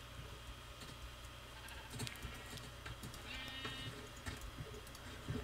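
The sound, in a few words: sheep bleating in Minecraft video game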